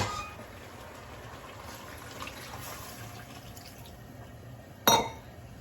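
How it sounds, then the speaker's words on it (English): Water is poured into a pot of turnip and goat curry, giving a soft continuous trickle and splash followed by a brief sharp clink near the end. "let's add the water"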